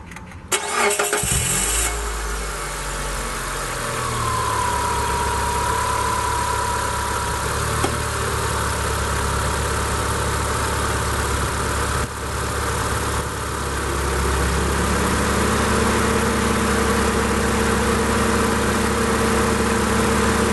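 A 2006 Mitsubishi Lancer Ralliart fitted with an AEM short ram air intake cranks briefly, fires up and settles into a steady, close idle that holds for the rest of the stretch, with no talking.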